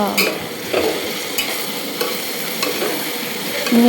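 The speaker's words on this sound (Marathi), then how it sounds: "चला हळद वगैरे टाकून आता सर्व मिक्सिंग करून घेऊया" A spoon scrapes rhythmically through masala rice with biryani masala and turmeric in a pan, the stirring strokes sounding over a gentle, continuous sizzle.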